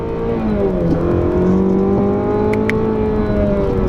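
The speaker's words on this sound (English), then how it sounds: "go ahead and give it some gas." A 2017 Chevrolet Camaro with a 2.0L turbo engine accelerates on a road, loud close engine drone with rising then steady tones and a brief shift dip, heard from inside without talk.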